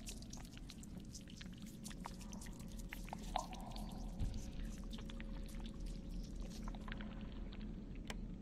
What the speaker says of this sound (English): you're actually supposed to pour gasoline in that thing